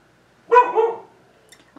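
A single dog bark, close and clear, standing alone against near silence with a faint trailing yip afterward.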